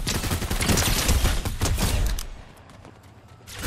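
Fortnite battle with dense rapid gunfire, loud sustained bursts of shots that cut off sharply after about two seconds, leaving quieter scattered pops and a final thump.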